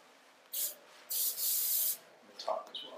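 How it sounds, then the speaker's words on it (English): Adhesive spray aerosol applied to the bottom of a foot for medial arch taping, three short hissing bursts, the middle one longer, followed by faint handling rustles and clicks, close and fairly quiet. "I'm going to spray the bottom of the foot."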